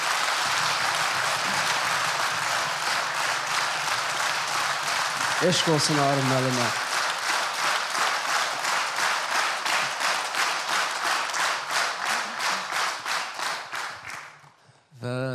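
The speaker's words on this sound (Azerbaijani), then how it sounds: "Onun şərəfinə mən istəyirəm bir alqış eləyək." An audience at the eighth Mugham competition claps steadily for the master Arif. The dense, sustained applause lasts throughout, and a voice calls out over it partway through before the clapping thins and fades near the end.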